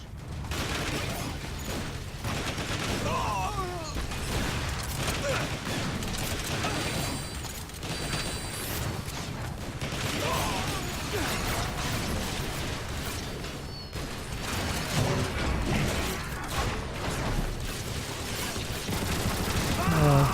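Sustained gunfire in the Transformers: War for Cybertron video game, with weapons firing from windows as a dense, continuous clatter of shots and mechanical clanks under voices talking.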